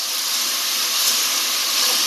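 Onions, green chilies and fennel seeds sautéing in hot oil make a loud, steady hiss and sizzle heard close up, with no talking.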